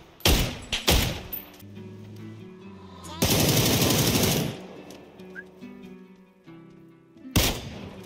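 Bursts of automatic gunfire from the PUBG console game, a couple of quick volleys early, a long sustained loud burst in the middle and another near the end, with game tones and voices faintly underneath.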